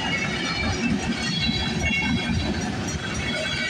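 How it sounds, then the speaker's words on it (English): Close, loud rumble of CP freight train 130 passing at Bronte Street, continuous wheel and railcar noise with faint clatter, no voices. "Symbol on this train is CP-130."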